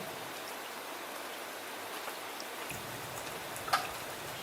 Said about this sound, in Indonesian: Sore ini mulai gerimis